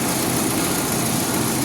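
A car engine running at low speed hums as a steady, continuous drone inside the cabin, broad and even with no voices.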